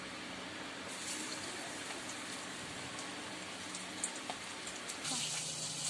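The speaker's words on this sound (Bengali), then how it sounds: "আমি এবারে পমফ্রেট একটা ছেড়ে দিচ্ছি" Pomfret fish sizzling as it is fried in hot oil on a gas stove, a steady dense crackle and hiss with occasional sharper pops, close and continuous.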